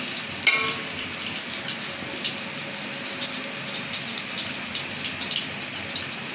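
Onion frying lightly in a pan for bhuna khichuri, a steady close sizzle and hiss running evenly throughout with no talk.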